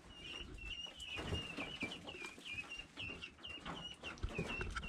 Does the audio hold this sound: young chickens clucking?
yes